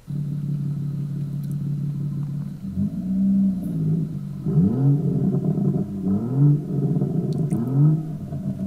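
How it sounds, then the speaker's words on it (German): BMW M140i fitted with an HG Motorsport Ego X exhaust in sport mode with the valve open: a deep idle burble, then several rising revs and low rumbling pulls as the car moves back and forward, loud and close. "Ego X, Abgasanlage, Sportmodus, klappe ich offen, sobald er fährt."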